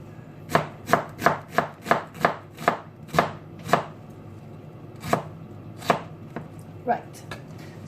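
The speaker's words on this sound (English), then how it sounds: "I haven't learned from anyone how to chop onions" A kitchen knife chops onions on a board in a quick run of about ten sharp, evenly spaced strokes. After a pause a few slower, scattered cuts follow. The sound is close and clear with no talking.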